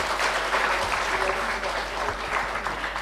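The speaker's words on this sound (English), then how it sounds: "Let's have a round of applause for all the dignitaries on the dais." Audience applauding dignitaries seated on the dais at the opening ceremony of an international sustainability education conference, a dense steady wash of clapping sustained throughout with a faint murmur of voices beneath.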